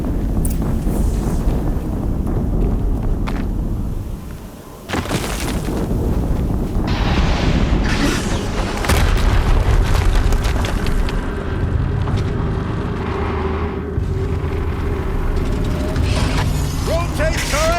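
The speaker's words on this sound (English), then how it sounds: "Explosion." Heavy, rumbling game explosions from Horizon Zero Dawn, with a broad roaring blast near the five-second mark amid continuous loud, dense battle noise and a voice speaking over it.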